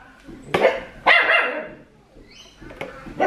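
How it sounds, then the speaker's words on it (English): A dog barks outdoors during the hanging of Christmas lights: three or four sharp, loud barks at irregular intervals, close by, with short quiet gaps between them. "Sorry about the dog barking too."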